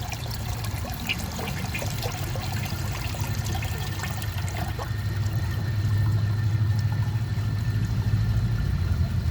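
A Glacier Bay all-in-one toilet with a regular flapper flushes, a steady close rush of swirling, trickling water that swells slightly louder partway through and keeps running without speech.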